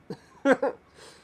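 A short, muffled cough in a couple of quick bursts, close by in a quiet room.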